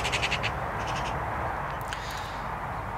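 A magpie's harsh, rasping chatter outdoors in spring, a quick run of loud calls at the start, then a few fainter repeats over steady background hiss.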